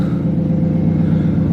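A supercharged Toyota FRS engine runs with a steady low rumble after starting, idling evenly and fairly close, with no voices over it.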